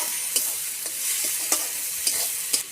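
Chicken curry sautéing in a pan, a steady close sizzle with a spoon scraping and stirring about every half second.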